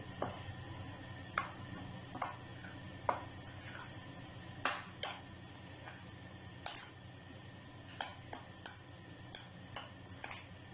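A spoon stirs a paprika, spice and gram flour coating into pieces of mutton heart for tikka, making soft, scattered clicks and scrapes at an irregular pace against a quiet background.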